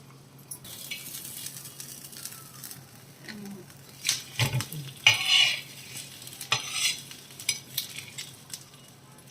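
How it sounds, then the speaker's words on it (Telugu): Pomfret fish frying in oil in a pan: a continuous close sizzle, with louder bursts and scraping spatula stirs midway as the fish is turned. "ఇలా ఫ్రై చేసుకోవాలండి."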